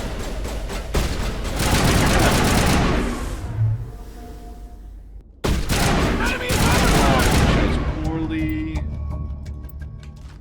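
Heavy gunfire erupts in the video game Mass Effect: dense bursts of rapid shots and booms, loud and close, broken by a brief lull and then resuming, with voices talking over the battle.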